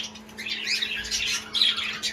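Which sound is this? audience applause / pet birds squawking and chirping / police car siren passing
pet birds squawking and chirping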